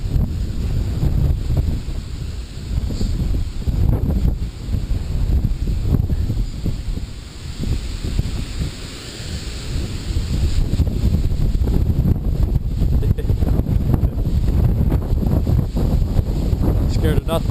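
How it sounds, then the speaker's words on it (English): Strong wind roars and buffets the microphone outdoors, a loud, continuous gusting rush that runs the whole time with brief dips. "Is it windy?"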